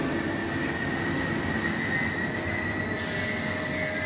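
A passenger express train at a Slovak railway station platform on track 4, steady rumbling broadband rolling noise with faint wheel squeal tones, continuous and moderately loud throughout.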